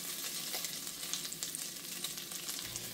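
Steady crackling sizzle of food frying in a pan, a dense hiss with small pops throughout, close by and with no talking.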